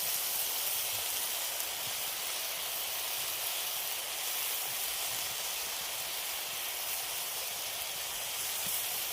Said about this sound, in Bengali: এবার আমি শাকগুলো দিয়ে দিচ্ছি,